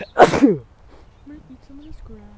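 A buffalo lets out one loud, snorting sneeze up close, followed by a person speaking quietly.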